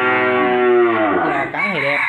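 Cattle on a farm in Dong Thap, Vietnam: one loud, close, drawn-out moo that holds steady, then bends and wavers in pitch toward the end.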